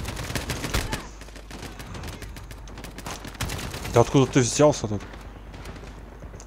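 Rapid gunfire crackles through a firefight in Call of Duty: Modern Warfare 2019, with scattered shots throughout and a loud cluster of bursts near the end, under a player talking excitedly.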